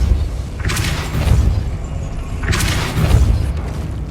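A Depulso spell fires in the Hogwarts Legacy video game as two loud, close bursts about two seconds apart, each a sharp whooshing blast over a low rumbling game background.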